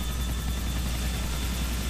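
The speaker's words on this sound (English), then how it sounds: "I think he's taking the helicopter after shooting him." A helicopter in Grand Theft Auto 4 gives off a steady, loud rotor drone with constant low thumping, holding at one level and heard alone with no speech.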